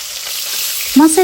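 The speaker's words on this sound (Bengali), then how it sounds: "এক এক করে আমি সমস্ত টুকরোগুলোই এর মধ্যে দিয়ে ভেজে নিচ্ছি।" Pieces of fish head fry in hot oil, a steady close sizzle with fine crackle, ending in a brief clatter of a utensil or piece being added.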